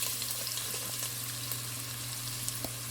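A large onion sizzles in hot oil with whole spices for plain kuska biryani, a steady close crackling fry with a constant low hum underneath.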